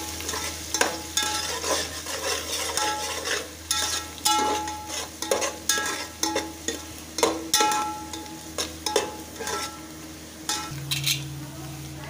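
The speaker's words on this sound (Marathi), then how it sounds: "कांदा चांगला परतून घ्यायचा लालसर होईपर्यंत" Onion sautéing in a pan for pav bhaji over high heat, a steady sizzle broken by repeated stirring scrapes and light clinks of a spoon against the pan.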